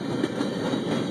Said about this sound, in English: these trains that come across this are so ridiculously long